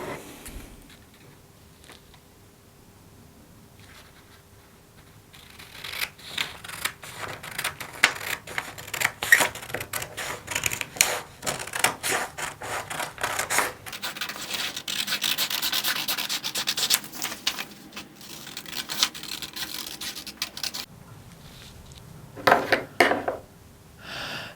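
Scissors snip and slide through thin paper while a size 16 sewing pattern is cut out, a run of close rustling, crisp cuts and paper handling that grows busier partway through, with no talking.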